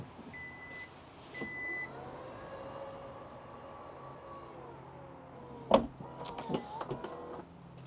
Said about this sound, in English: So there's some warning beeps, and then the thing opens, and then close it again.